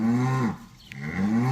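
Cattle mooing on a farm where cows are being sorted before calving, two long, loud, close moos with a short lull between them.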